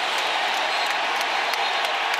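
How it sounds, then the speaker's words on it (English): Football stadium crowd at the Big 12 Championship between BYU and Texas Tech reacting to a touchdown catch, a dense, steady roar of cheering and scattered applause filling the whole stretch without a break. "you hear the crowd reacting"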